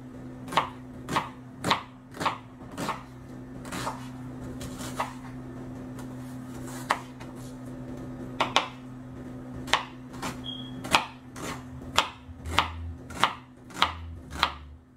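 Knife chopping an onion on a cutting board for Turkish borek filling, with a steady run of sharp, close, evenly spaced chops and no talk.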